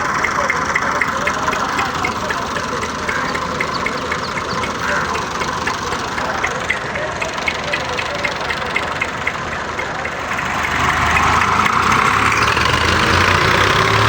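Tractor stuck in a ditch strains with a continuous, rough engine drone that swells louder near the end, while people talk over it in a village setting.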